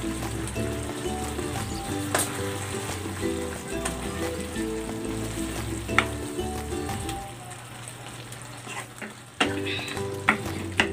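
Eggs frying alongside sautéed bok choy in a pan, a steady close sizzle with crackling pops and scraping stirs, some soft musical tones running underneath.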